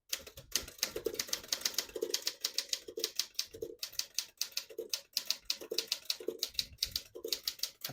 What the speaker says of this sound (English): Absolutely beautiful typing machine.